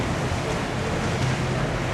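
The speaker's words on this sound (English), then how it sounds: "here I am early in the morning at the water bus station." Early morning at a Venice water bus station, a steady roar of waves, lapping water and wind buffeting the microphone, loud and continuous with no clear voices.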